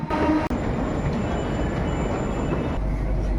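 Steady rumble of a Mumbai metro train running from Ghatkopar toward Western Express Highway, heard from inside, with a thin high electric whine running through and a brief jolt near the start.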